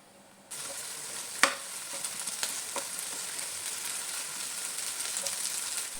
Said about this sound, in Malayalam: തുറന്ന് വെച്ച് നമുക്ക് ഒന്നുകൂടെ മൂപ്പിച്ചെടുക്കാം.